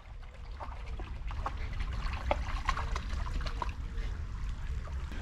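A shallow stream trickles and splashes over and across the tops of Nike React Pegasus Trail 4 GORE-TEX trail shoes, a close, steady babble with small bright spatters and no speech.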